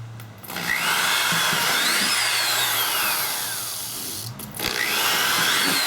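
Power drill boring through material while building a homemade riot shield, a loud steady whine with pitch sweeps that runs continuously, pauses briefly near the end, then starts again close up.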